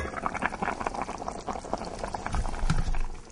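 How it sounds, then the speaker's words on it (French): Tripe stew with white wine simmering in a covered pot on low heat, a steady close bubbling and burbling that swells slightly toward the end, with no voices. "ça mijote"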